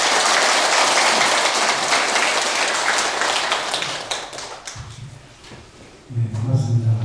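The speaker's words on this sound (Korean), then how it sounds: "다 함께 큰 박수로 스님을 환영합니다" Audience applause welcoming a Buddhist monk to a Wednesday dharma gathering, a dense, steady wash of many hands clapping that thins and fades out, with a voice starting to speak as it ends.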